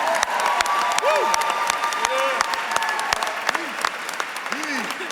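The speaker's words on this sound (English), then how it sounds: "I want to just ask you guys to give a round of applause to my daughter" Enthusiastic audience applause at a gala, dense clapping throughout with whistles and scattered cheers rising above the crowd.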